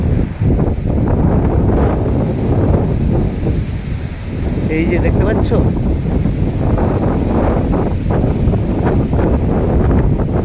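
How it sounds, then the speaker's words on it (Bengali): A violent Kalbaishakhi storm wind sweeps an open field lined with trees under a dark clouded sky. Loud, continuous gusts roar and buffet the microphone while someone talks excitedly over the noise. "হাওয়া চলছে, শুধু দেখো হাওয়া চলছে দেখো"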